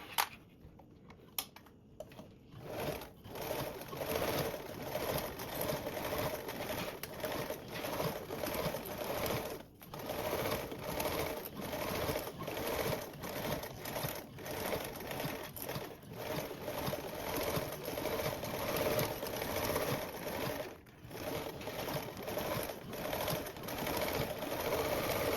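A sewing machine bastes fabric with a 1/8 inch seam allowance for a Pandora Charisma garment, running steadily and close for most of the stretch, with a few brief pauses where the motor stops.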